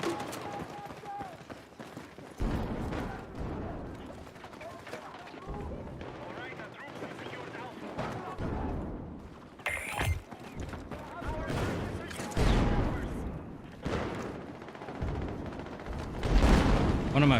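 Gunfire from the video game Battlefield 6, including the M39 EMR rifle, bursts in scattered shots and rumbling explosions beneath a player's ongoing talk.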